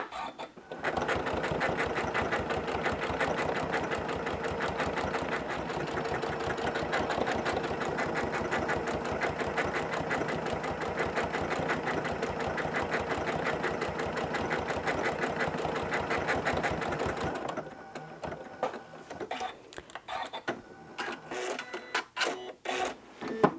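A sewing machine runs a decorative stitch across a whole cloth quilt, a steady, loud, rapid needle chatter for about seventeen seconds before stopping, followed by quieter handling clicks.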